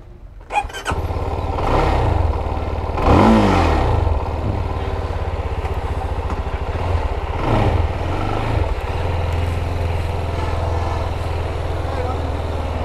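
A CFMOTO 300SR motorcycle on a test ride in Sylhet throbs loudly and close, with a low steady engine drone and several rising and falling rev swells.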